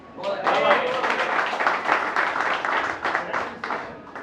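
An audience at a Hindi poetry recital claps steadily for several seconds, a dense patter of many hands at moderate level, with some murmuring voices mixed in.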